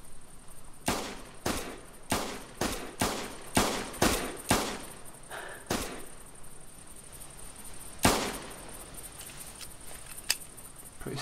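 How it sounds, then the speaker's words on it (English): .22 Grasshopper pistol in theHunter 2015 firing iron-sighted: about a dozen sharp, dry shots, evenly spaced at first in a quick steady rhythm, then a few sparser shots, each crisp and brief over a quiet background. "Now I'm going to shoot iron sighted."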